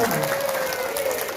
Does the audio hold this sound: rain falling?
no